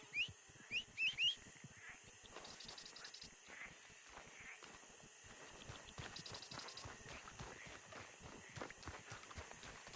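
Horse hooves clip-clop in Red Dead Redemption 2, a few loud, close hits at first and then a quicker, lighter run of hoofbeats mixed with faint whistles and game ambience.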